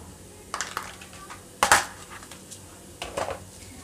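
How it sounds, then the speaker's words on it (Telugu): Mustard seeds tossed into hot oil in a pan for a gonguura pickle, giving three brief bright crackling bursts with small clicks between them, close and alone without talk. "ఆవాలు వేస్తున్నాను."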